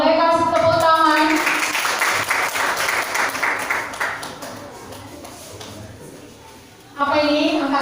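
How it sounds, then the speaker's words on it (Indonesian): Classroom applause breaks out for a student group after their presentation, a dense burst of many hands clapping that starts loud and gradually thins and fades over several seconds, with voices speaking before and after it. "Boleh kasih tepuk tangan?"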